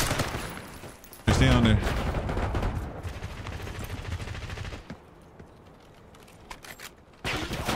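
M4 assault rifle fire in Black Ops 6: bursts of rapid automatic gunshots, loudest in the first few seconds and then dropping off, with keyboard clatter and a player talking briefly.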